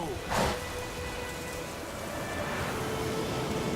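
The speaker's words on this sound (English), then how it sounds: "I think it's raining." Steady rain hisses softly in The Witcher 3: Wild Hunt, a continuous wash of falling drops with a brief louder swell near the start.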